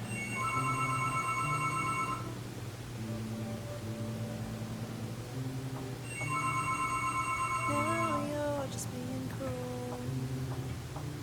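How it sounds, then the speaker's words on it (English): A landline telephone rings indoors in repeated two-burst electronic trills separated by pauses, loud and close over a steady hum, with a few fainter warbling tones near the end. "my phone was ringing, so I let the answer machine answer"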